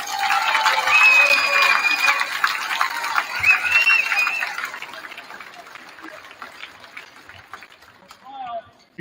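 A school gym crowd applauds the state-bound wrestling team at a high school pep fest, loud sustained clapping that gradually thins and fades toward the end.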